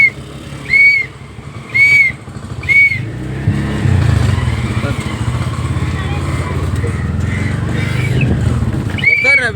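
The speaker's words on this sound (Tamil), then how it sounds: "அதுக்கு பேர் விசில்" A whistle blown at a busy fish market gives three short, shrill blasts about a second apart, followed by a steady low rumble of engines and crowd noise with people talking nearby.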